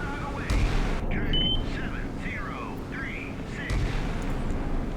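Missiles launched in the naval combat game Sea Power, heard as deep booming blasts mixed with whistling, chirping sweeps of sound, with a voice talking over parts of it.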